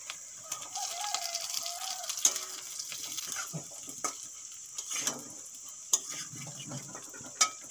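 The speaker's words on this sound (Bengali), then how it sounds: "মাংসের সঙ্গে পেঁপেও 2 মিনিট কষিয়ে নিয়েছি" Chicken pieces and fried papaya being sautéed in a pan, with a steady low sizzle under scattered spoon scrapes and sharp clinks against the pan.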